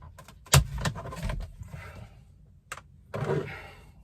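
Plastic steering column cowl being pulled off a VW Polo 6R, a sharp snap followed by scraping and rustling, then a second softer snap and more plastic handling, close up with no talking.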